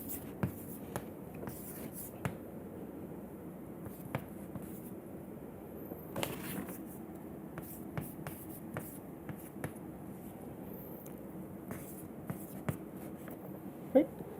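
Chalk or pen writing on a board during a chemistry lecture on symmetry and group theory, faint, scattered taps and strokes in an irregular rhythm over a quiet, hissy room.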